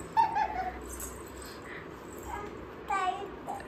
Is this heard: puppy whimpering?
yes